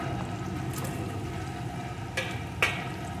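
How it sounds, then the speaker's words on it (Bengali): Potato pieces sizzle with chopped onion in a pan, a soft steady frying hiss with a couple of brief clinks or stirring scrapes partway through. "আলুগুলোকে একটু ভেজে নেব।"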